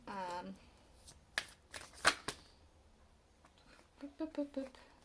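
Tarot cards are shuffled in several quick riffling bursts close to the mic, with brief snatches of voice before and after.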